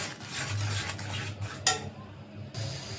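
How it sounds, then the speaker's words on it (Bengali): Spice masala with salt is stirred in a pan for a fish and potato curry, soft scraping and clinks of a spoon against the metal with a faint sizzle, close and fairly quiet. "লবণ মশলাটা এখন কষাই নেব"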